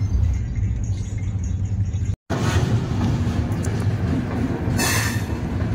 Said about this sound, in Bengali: SMVT বেঙ্গালুরু সুপারফাস্ট এক্সপ্রেস যখনই দেখেছি সিগন্যাল পেয়েছে সঙ্গে সঙ্গে 120, 30, 35 অবধি গতিবেগ উঠিয়ে দিয়েছে ট্রেনের